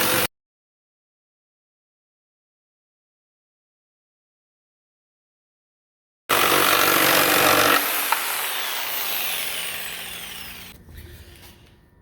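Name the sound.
power tool cutting a toilet flange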